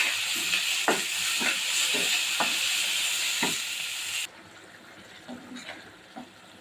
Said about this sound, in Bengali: আজকে রান্না করব পাঙাশ মাছ ভেজে ভুনা করব।